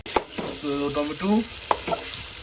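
Tomatoes fry on a hot griddle with a steady, close sizzle, broken by a few sharp utensil taps and a brief tonal voice-like hum partway through.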